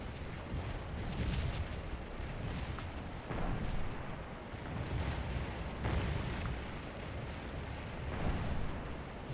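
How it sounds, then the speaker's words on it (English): Artillery fire from a Civil War battle in the Scourge of War: Antietam video game, heard as a dense, continuous rumble of booming cannon shots. The shots swell and recede in waves and sound distant but heavy. "French's troops have started to engage this rebel artillery"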